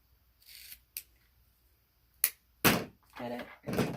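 Close, sharp scissor snips and rustles sound in a few separate bursts, with quiet gaps between them and a cluster of louder cuts near the end.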